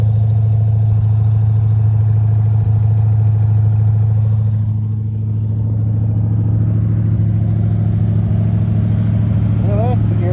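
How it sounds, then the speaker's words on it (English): A Dodge Charger's exhaust idles steadily with a deep, continuous low rumble, holding even throughout with faint background noise and no one speaking. "I love the way the exhaust sounds."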